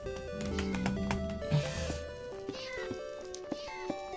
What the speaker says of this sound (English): Oh, the cat's burning.